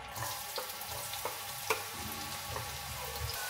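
Chopped onion sizzles steadily in hot oil in a home kitchen, a continuous close frying crackle with a few small pops and stirring scrapes, no talking.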